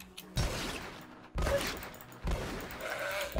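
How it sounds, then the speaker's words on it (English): Three loud shotgun blasts from the video game GRAV go off about a second apart, each a sharp, close boom followed by a decaying rumble, with quieter game ambience in between. "maybe let's try to use a shotgun"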